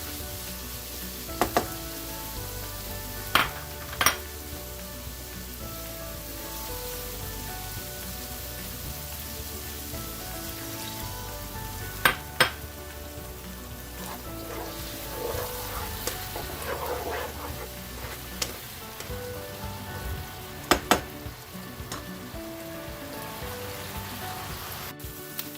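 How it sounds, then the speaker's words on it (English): Chopped ripe tomatoes hiss and sizzle steadily in a hot pan for a shrimp gravy, a dense continuous frying crackle with occasional louder pops and spoon clinks, close up and without talk. "So we're going to throw in our chopped tomatoes."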